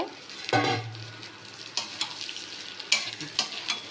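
Basmati rice for basanti pulao fries and is stirred in a pan, giving a low steady sizzle broken by several sharp scraping stir strokes, close up with no talking.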